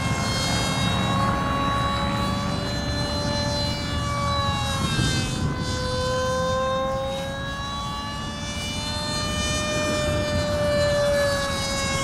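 An FF Aurora radio-controlled model plane with an electric ducted-fan jet on a three-cell battery whines steadily overhead, its pitch rising and falling as it passes, sustained and fairly loud with no talk.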